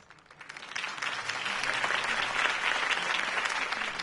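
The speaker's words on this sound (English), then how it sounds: "If only Mr. Wayne, my campaign's largest backer, could have heard that applause" Steady crowd applause at a political campaign speech in Batman: The Telltale Series swells up within the first second and keeps going loud and dense, many hands clapping at once with no voices on top.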